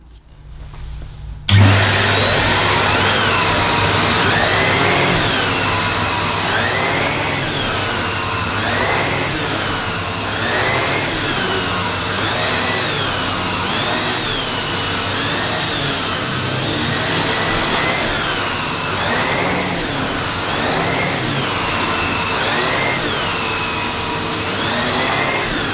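A Numatic Henry vacuum cleaner fitted with a full-size turbo brush switches on and roars steadily as it is pushed back and forth over carpet, loud and close, with a rhythmic swish from the strokes.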